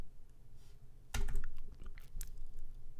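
Quick clatter of keys tapped on a computer keyboard, a loud burst of several keystrokes followed by lighter scattered taps, close and clear over a quiet background.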